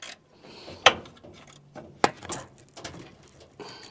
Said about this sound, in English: Just trying to get the last couple of these bolts loose.